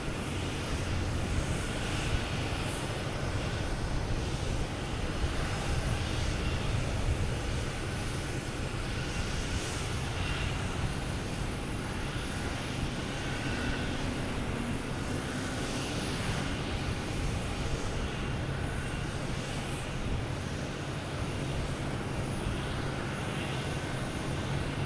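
A Porter Airlines aircraft at Boston Logan Airport produces a continuous, even engine roar with faint rising and falling texture, sustained throughout without any voices.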